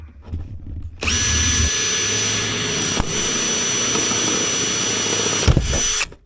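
A power drill whirs loudly at high speed for about five seconds, with a brief pause and restart near the end.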